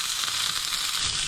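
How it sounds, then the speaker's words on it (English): A pork chop browning in a hot pan gives a loud, dense, continuous sizzle, close and even throughout with no voices. "I'm going to cook this and brown both sides a little bit"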